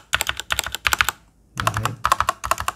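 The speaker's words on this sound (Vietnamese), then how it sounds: "Để mình thử cho các bạn nghe lại cái tiếng stab nhé." Keys on an E-DRA EK3187W mechanical keyboard with hot-swap switches are pressed in quick clustered bursts, the stabilized keys clacking loudly up close. A short pause falls in the middle, and one deeper, rattly press follows it.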